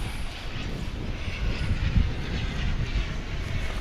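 A 19-year-old American Airlines Boeing 737 jet on a DFW airport runway, heard as a loud, steady, broadband engine roar that fills the whole stretch without fading.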